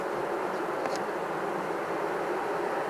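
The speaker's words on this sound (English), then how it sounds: "Lots of bees." Honey bees buzzing around capped-honey foundationless frames of a poly hive: a dense, continuous swarm drone, steady and close, with no talk over it.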